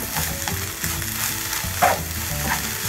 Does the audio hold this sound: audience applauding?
no